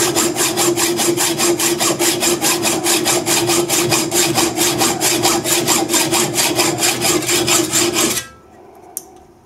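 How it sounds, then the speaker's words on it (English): Hacksaw cutting through metal stock in steady rhythmic back-and-forth strokes, loud and close, running continuously for about eight seconds before stopping abruptly, followed by a faint clink. "This is quick to do with a hacksaw."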